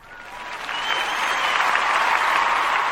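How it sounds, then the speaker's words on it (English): Recorded applause effect of a crowd clapping, swelling from a softer start into loud, dense, sustained clapping that continues alone to the end. "He put a bunch of clapping people."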